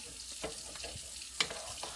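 Smothered neck bones cook in a pot with a quiet bubbling sizzle, broken by a few soft stirring scrapes and one sharper clink.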